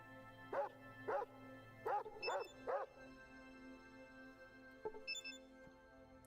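Dog barks in Fallout 2, a video game: five short, fairly loud yips in quick succession, then a quieter pair of barks a moment later over a steady game background hum.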